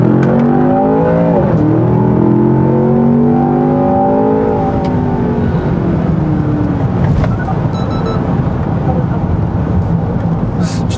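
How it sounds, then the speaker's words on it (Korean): A Land Rover Defender OCTA accelerating hard from inside the cabin, its engine note rising through the gears in loud, sweeping climbs before settling into a steady roar of road noise. "진짜 이 차가 이렇게 무거운데도 굉장히 가뿐하게 가속이 되는군요"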